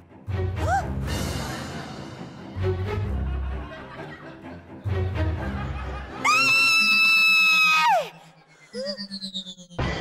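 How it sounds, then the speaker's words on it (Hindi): A woman screams loudly at night in a comedy TV serial, a long piercing shriek that rises and then drops away, coming after bursts of music and loud stings, with no clear talking. "इतनी रात में का चिल्ला रही हो"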